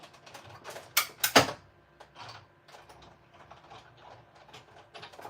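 A die cutting machine cranking a die cut through for a shadow box card, with a burst of loud clacking mechanical clicks near the start, then lighter ratcheting ticks, close and without talk.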